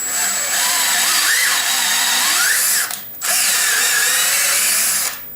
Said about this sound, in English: It's the fastest way to tap accurate holes.